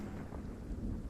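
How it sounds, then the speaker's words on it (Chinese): Rain falling outdoors, a dense, even low rumbling wash of heavy rainfall heard briefly at a moderate distance, no speech. "外面下雨，记得打伞。"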